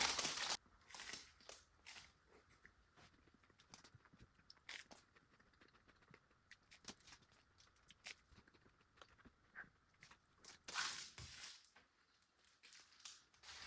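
Crunchy taco being eaten up close, with repeated sharp bites and crackly chewing in irregular bursts, quiet and alone without talk.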